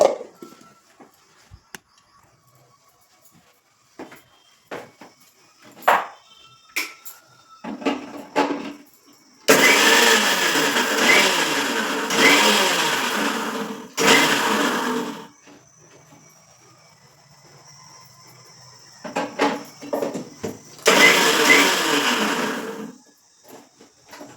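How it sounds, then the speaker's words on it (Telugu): Onions and cumin whirring in a kitchen mixer grinder, in two loud bursts of about five and three seconds separated by quiet, with faint clicks and handling noises between them. "ఇట్లా వేసి మిక్సీ పట్టుకుందాం"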